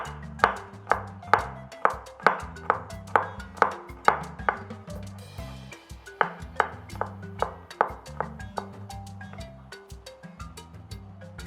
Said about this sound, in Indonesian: Kita iris bawang putihnya.